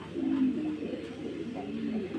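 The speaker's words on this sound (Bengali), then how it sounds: "দেখেন কবুতরটা দেখাই দিচ্ছি," Black Sirazi pigeons coo nearby in low, rolling, repeated throaty calls that overlap and carry steadily through, with faint background noise.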